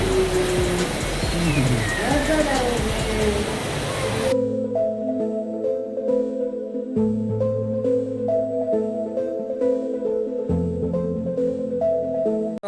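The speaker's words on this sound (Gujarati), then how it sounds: "વરસાદ બોલાવે ધબધબાટી ભાઈ." Heavy rain pours down at the Tulsishyam Rukmini temple, a loud, steady broadband wash for about four seconds before tonal temple music takes over for the rest of the clip.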